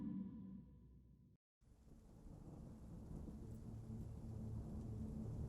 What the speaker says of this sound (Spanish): Otra vez está lloviendo.